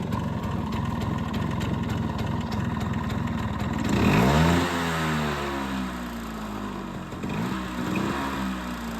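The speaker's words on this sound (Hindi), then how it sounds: "इसको स्टार्ट कर एक बार में, देख लो भाई, एक सेल्फ के अंदर स्टार्ट है" A Bajaj Chetak two-stroke scooter engine runs close by, a loud buzzing idle that revs up sharply midway, then settles and blips again.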